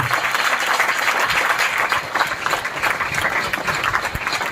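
Sustained, dense applause from a seminar audience in a hybrid center hall, steady and loud throughout with no break, filling the room.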